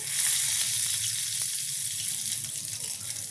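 Whole spices, bay leaf and garam masala, sizzle steadily in hot oil while tempering for a kofta curry, a loud continuous frying hiss with faint clicks and no talking.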